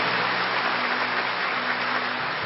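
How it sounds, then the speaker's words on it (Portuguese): A church congregation at a Catholic Mass claps strongly and continuously, a dense, even wash of applause with no pauses, heard from a distance with a faint hum underneath. "Pode aplaudir com força"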